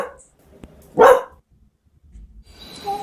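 A dog gives a single loud bark near the middle, with a faint yip before it and soft background music and noise around it.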